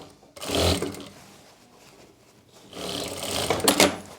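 A sewing machine stitches a sleeve onto a kurti top in two loud, rapid whirring runs, separated by a quieter pause while the fabric is repositioned.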